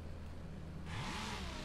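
Lamborghini Gallardo Superleggera engine in the racing game The Crew Wild Run, a steady hum that rises into a revving surge about halfway through, sounding fairly close.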